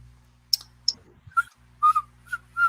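A person whistles a few short, clear notes of a tune from a Quentin Tarantino film, sparse and fairly close over a quiet low hum, with a couple of faint clicks.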